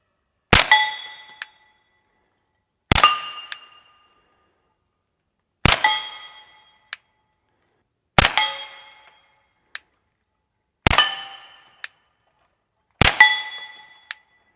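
A suppressed CZ P-09c pistol fitted with an AB F4 suppressor fires six spaced single shots outdoors, each a sharp crack with a short ringing decay, some followed by a faint metallic clink.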